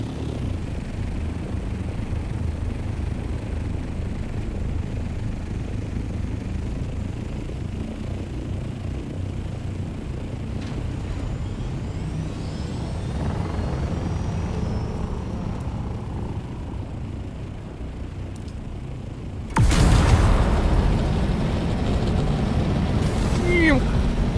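Scout ornithopter thrusters in the game Dune: Awakening roar as a steady broad rumble that holds for most of the stretch, then a sudden louder surge of thrust near the end.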